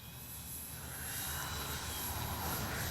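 An FMS 1700mm PA-18 Super Cub RC model plane engine drones steadily while the plane taxis over rough field terrain, a continuous nearby buzz that swells slightly louder partway through, with no talking.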